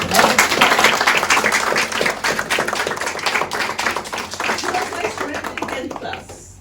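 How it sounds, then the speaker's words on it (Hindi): An audience applauding in a Hindi-language talk setting, dense rapid clapping sustained and fairly loud, tapering off at the end. "तो तालियां इनके लिए भी।"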